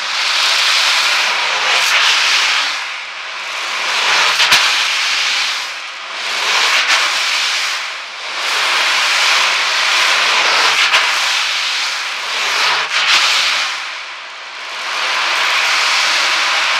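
Ocean drum (wave drum) tilted to imitate sea waves on a beach: a continuous loud hissing wash of rolling beads that swells and recedes in slow, regular surges, with no talking.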